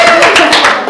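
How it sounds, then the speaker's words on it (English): A few people at a board meeting clap softly and briefly, a quick light golf clap patter of hands, close by and muted. "Golf clap for goal 2!"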